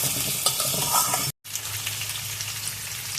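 Thick-cut potato and pumpkin pieces frying in a pan, a loud continuous sizzle with spatula stirring scrapes, briefly cut off by a short gap before the hiss resumes.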